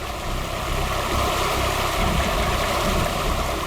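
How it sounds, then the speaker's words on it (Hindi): A waterfall roars in a loud, steady wash of rushing water with no break, close and continuous with no voices. "सामने देखो वाटरफॉल कितना सुंदर है ना पायल?"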